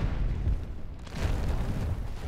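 A bridge collapsing in the Instruments of Destruction video game, a dense, rumbling wash of crashing debris and low booms that swells again midway, loud and continuous with no talk.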